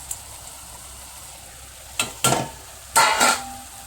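Fish goes into a pan of cooking spinach (palong shak) with prawns, giving short, loud bursts of sizzling and stirring, one pair close together followed by a longer burst.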